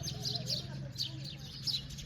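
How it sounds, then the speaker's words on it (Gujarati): A busy chorus of sparrows chirping and twittering in quick bursts, with a low hum and murmuring underneath. "ઢગલો એક ચકલા છે જો"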